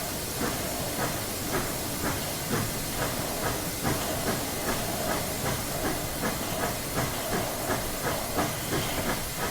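A steam locomotive in a Train Simulator game hisses loudly and continuously while building steam, with a regular chuffing pulse running steadily beneath the broad hiss.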